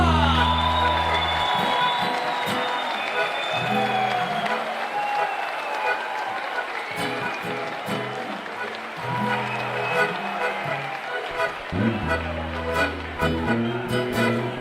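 An audience at a live relaxed music show applauds and cheers with whoops for a performer, loud and sustained across the clip, with musical notes and voices mixed in.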